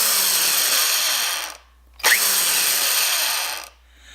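A Black & Decker Quantum 1/2" x 18" belt sander runs with a loud, close high-pitched whir, stops briefly, then spins up again with a rising whine before winding down.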